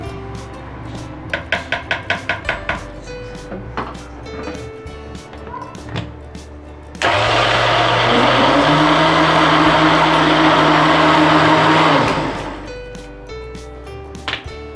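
A kitchen blender whirs loudly for about five seconds while churning cream with a little water into homemade butter, starting abruptly and cutting off, preceded by a short burst of rapid clicks and quieter clatter.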